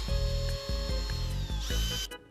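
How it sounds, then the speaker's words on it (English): An electric drill fitted with a 5/16 bit bores a hole in a 3D-printed FGC-9 MK1 gun bolt, giving a steady close motor whine that shifts pitch as the bit bites, broken by brief stops and restarts. "So we're going to drill with a 5x16 drill bit, I think."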